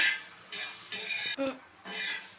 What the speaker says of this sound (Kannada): ಈರುಳ್ಳಿ ಸ್ವಲ್ಪ ಹುರಿದಾದ್ಮೇಲೆ ಈಗ ತೆಗೆದಿಟ್ಟಿರೋಂಥ ಗರಂ ಮಸಾಲನೂ ಇದ್ರ ಜೊತೆ ಹಾಕಿ ಸ್ವಲ್ಪ ಹುರಿತಿದ್ದೀನಿ